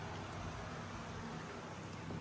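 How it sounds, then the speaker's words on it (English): Rain begins to fall outside a garage, making a steady, soft wash of patter that stays even throughout, with no talking. "looks like it's starting to rain"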